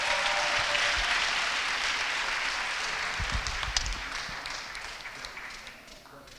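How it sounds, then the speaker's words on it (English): Sustained crowd applause at a 2024 Peralta Colleges African/African American graduation celebration honoring scholarship winners, steady clapping filling the room from start to finish and slowly fading toward the end. "just give them all a big round of applause"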